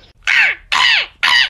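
A person imitates a crow, giving three loud, harsh caws in quick succession with short gaps between them, close and alone.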